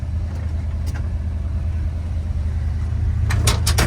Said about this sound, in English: We'll take it for a little spin quick.